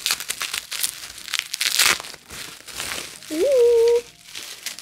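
Plastic packaging from a Notino cosmetics order crinkles and tears in bursts as it is unwrapped, with speech heard between the rustles and a brief tonal squeak near the end.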